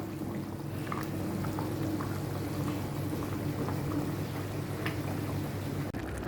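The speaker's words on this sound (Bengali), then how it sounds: "ফুটে গিয়েছে তো ঝোলটা একদম শুকিয়ে নিব আমি এটা একদম ভুনা ভুনা করে রাখবো" A pot of beef bone curry simmers and boils down, giving a low steady bubbling hiss with faint scattered pops, and no one speaks.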